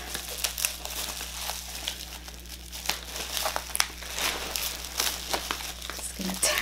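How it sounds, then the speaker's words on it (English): A beauty-product lucky bag's packaging crinkles and tears open close up, with continuous rustling and sharp rips throughout. "Just gonna tear it up."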